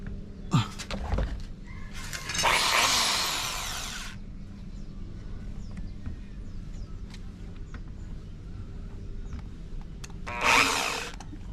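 A power drill bores a hole while making a wooden step, with a short burst, a longer whirring run of a second or two, and a brief final spin, close up amid quiet handling sounds.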